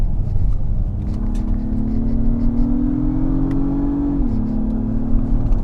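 Engine of a 2022 Acura MDX Type-S SUV revving in Sport Plus mode, heard from inside the cabin as a steady droning hum that climbs in pitch, holds, then drops slightly, over constant low road rumble.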